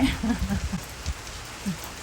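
Steady rain falls outdoors around a rural home in an even wash, while a person talks over it for the first part.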